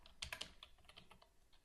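Quick, light keystrokes clatter on a computer keyboard in a short irregular burst, close and quiet, with no voices.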